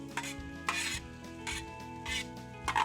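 Pork char siu stir fry pushed around a pan, a few rhythmic scraping stirs over a faint steady sizzle, close and moderately quiet.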